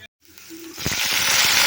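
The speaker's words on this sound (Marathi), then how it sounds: "याला तेल थोडं जास्त घालायचं बघा जिरं कढीपत्ता शेंगदाणे" Cumin, curry leaves and peanuts hit hot oil and sizzle. After a brief silence there is a soft sputter, then a rising, steady crackle and hiss close by.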